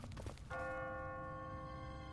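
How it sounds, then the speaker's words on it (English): A church bell rings on its own at twenty past the hour in the video game The Walking Dead, Season 1, Episode 4. A single clear strike follows a brief muffled rustle and hangs in a long, fading, resonant hum. "What kind of church bell goes off at 20 past the hour?"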